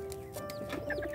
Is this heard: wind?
no